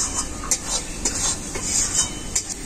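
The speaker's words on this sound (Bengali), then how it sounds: "মশলাটাকে আমি খুব ভালো করে কষাতে থাকবো যতক্ষণ না মশলার গা থেকে তেল ছেড়ে যাচ্ছে।" Spiced masala paste being stirred and fried in a pan for a chicken dish, a steady close sizzle with repeated scraping strokes of a utensil against the pan, no talking.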